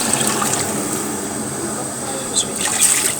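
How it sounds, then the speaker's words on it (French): Water poured into a pot of rice for a chicken curry, a continuous close splashing and trickling fill with small bubbling bursts toward the end. "je vais y mettre de l'eau"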